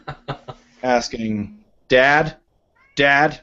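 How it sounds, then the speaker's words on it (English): A pet cat at a door meows repeatedly, giving loud, drawn-out cries close by. Someone speaks briefly between the meows. "I just want to apologize for my cat, who is at the door"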